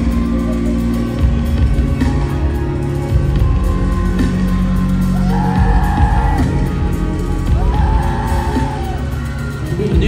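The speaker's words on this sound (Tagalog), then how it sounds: "Sino yung sumisigaw na?" A crowd at a Binibining Pilipina event yells, screams and cheers loudly for SB19, a dense continuous roar with rising whoops that stands out twice above the din.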